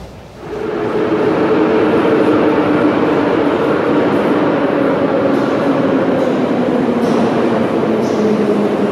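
A metro train arriving at Mayakovskaya station platform in Moscow rumbles steadily, a loud continuous roar with a low hum that builds quickly and holds, with faint high squeals near the end.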